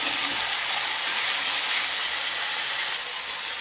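Hyacinth beans (ghevda) cook in hot oil with salt, giving a steady, close sizzling hiss that holds evenly for a few seconds with no voices.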